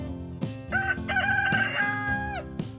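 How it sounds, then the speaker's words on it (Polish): A rooster crows loudly and close, a long rising and falling cock-a-doodle-doo over a background of musical accompaniment. "To jest kogut."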